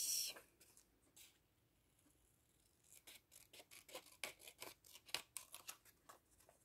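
Scissors snip through paper while a vintage card is being made, quiet at first, then a close run of quick, uneven cutting strokes growing denser and slightly louder.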